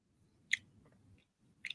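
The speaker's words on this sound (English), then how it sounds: "Let me finish chewing." A person chewing food at a party: soft, wet mouth sounds, with two sharp crunchy bites standing out near the start and end over a low, muffled background rumble.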